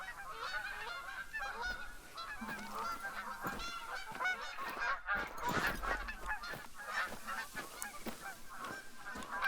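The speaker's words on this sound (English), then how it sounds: "I hear the geese." Geese honk repeatedly in theHunter: Call of the Wild, a dense overlapping chorus of nasal calls from a flock that carries on steadily without pause.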